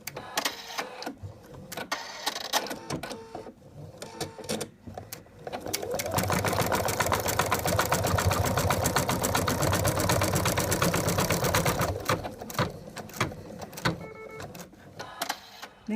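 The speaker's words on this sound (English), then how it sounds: "Place the ear in position and stitch out the next color, which secures the ear." An embroidery machine stitches out the next colour to secure a dog's ear on an in-the-hoop design, starting with short bursts and pauses, then running in a loud, steady rapid stitching rhythm before slowing to intermittent stitches.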